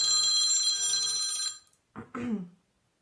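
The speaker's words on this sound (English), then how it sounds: "Sorry, Instagram, I had a phone call." A phone rings with an incoming call, giving a loud, bright electronic ringtone for about a second and a half before it stops. A few short spoken words follow it.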